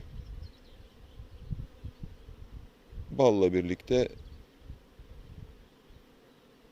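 A steady low buzz of honeybees around a hive hums in the background, with someone speaking briefly in the middle and faint rustling around.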